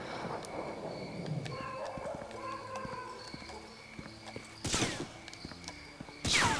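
Gunfire in the World War II shooter Medal of Honor Frontline, with scattered sharp shots and two loud bursts near the end, over game ambience and footsteps.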